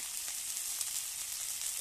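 Spice paste frying in a pan gives a steady, close hiss and sizzle that runs unbroken, with no talking over it.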